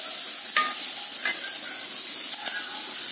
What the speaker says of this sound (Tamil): இந்த பெரிய வெங்காயத்தை நான் ஆட் பண்றேன். கருவேப்பிலை போடுங்க.